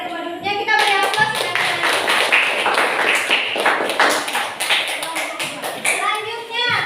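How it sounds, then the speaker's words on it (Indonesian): A classroom gives a student group a round of applause: many hands clap in a bright, busy burst that lasts several seconds, with children's voices mixed in and a teacher speaking briefly before it starts. "Kita beri aplaus."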